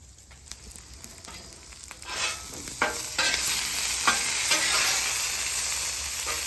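Onions and potatoes sizzle on a hot griddle, a steady close frying hiss with scattered scraping and stirring strokes from a spatula, growing louder as the cooking goes on.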